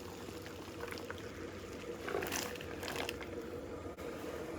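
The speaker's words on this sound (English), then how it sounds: "Now we're going to add in our green beans." Green beans dropped into a saucepan of boiling water, heard as a faint bubbling and splashing with a few soft bursts near the middle, quiet and close.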